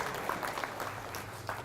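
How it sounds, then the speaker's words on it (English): An audience applauds during a workplace diversity discussion, a short, fairly soft burst of clapping that holds evenly throughout. "Big round of applause for all the answers in here."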